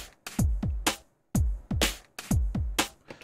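A pretty standard electronic drum kit plays a simple beat: punchy kick thumps, crisp snare and hi-hat hits in a repeating pattern with a short pause before it restarts, clean and close with no talking.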